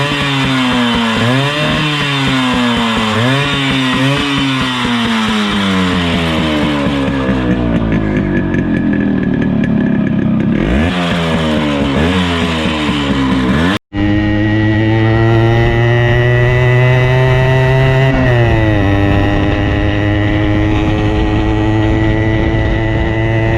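Yamaha RX100 motorcycle with a CDI kit fitted, its two-stroke engine buzzing loudly and revving up and down repeatedly close by, with a brief cut midway before sustained high revving resumes.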